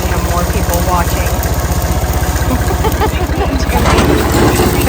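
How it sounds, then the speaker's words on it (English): A tractor engine idles and chugs nearby with a steady low pulsing throb, growing slightly louder near the end, with people talking faintly over it. "There is only one tractor"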